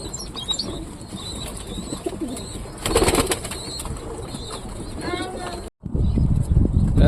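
Pigeons cooing inside a coop while a male chases his mate, soft repeated coos with a burst of flapping wings, close by, and someone speaking over them.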